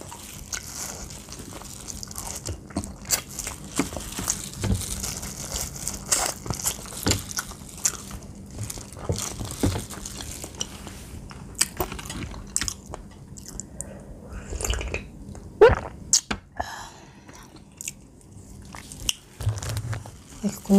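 Close, wet crunching and chewing of crispy fried chicken and its soft bones, with irregular bites and crackles continuing throughout, occasional faint murmurs in the background.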